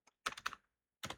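A few quick keystrokes on a computer keyboard, as a git command is entered in a terminal: a short burst of close, soft clicks, a brief pause, then two more taps, quiet and without any talking.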